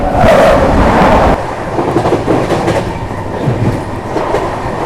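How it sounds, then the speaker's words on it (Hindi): The Sampoorna Kranti Express passes close by with a loud rushing roar that eases into a rhythmic clatter of wheels over rail joints. "अब आ रही है संपूर्ण क्रांति एक्सप्रेस, नगर पटना संपूर्ण क्रांति"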